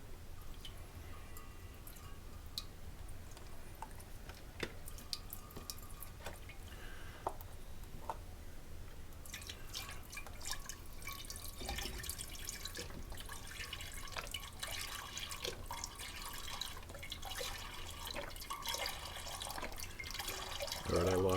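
Beef broth poured from a container, a steady wet splashing and trickling that runs the whole time at moderate level, getting somewhat busier and louder in the second half.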